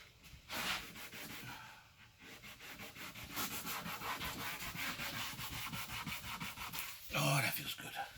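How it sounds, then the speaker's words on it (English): Hand sanding of stripped wood furniture along the grain, a close, steady rhythmic rasping scrub that continues for several seconds with brief breaks. "when you're sanding with this, don't hit your grain"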